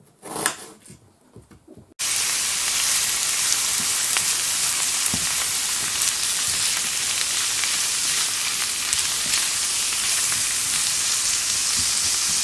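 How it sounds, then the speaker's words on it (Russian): Sliced onion and bell pepper hit a hot pan in a village kitchen and fry with a steady, dense sizzle that runs unbroken after a brief quiet handling start, close and loud with no talk. "И на сковородку быстренько это все дело обжарим. Сначала лук, потом добавляем уже перец."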